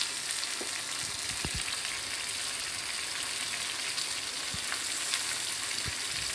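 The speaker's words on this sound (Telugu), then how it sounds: "ఆయిల్ హీట్ అయిన తర్వాత మనం కట్ చేసి పెట్టుకున్న ఉల్లిపాయలు, టమాటా 2 వేసి బాగా ఫ్రై చేసుకోవాలి." Chopped onions and two tomatoes fry in hot oil for a restaurant-style mushroom masala, giving a steady close crackling sizzle with a few soft low knocks from stirring, no talk.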